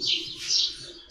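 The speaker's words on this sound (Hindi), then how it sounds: "कितनी खूबसूरत आवाज़ें आ रही हैं चिड़ियों की" Small birds chirp near a house under construction, with bright, brief high tweets that rise and fall over faint background noise and no talking.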